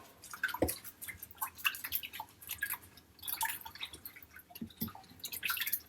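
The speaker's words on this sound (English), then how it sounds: "We're going to give this a whisk." A whisk clatters irregularly against a bowl, beating a French toast egg mixture with white sugar; quick close scrapes and taps repeat over a soft watery swish, and no one speaks.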